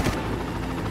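Helicopter in the video game Far Cry, a steady continuous rotor and engine drone holding at a constant loud level throughout, with no voices.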